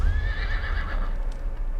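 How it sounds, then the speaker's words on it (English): Wild horses in a desert canyon let out a loud, wavering whinny that rises and falls, with a low rumbling background beneath it. "Seeing those wild horses"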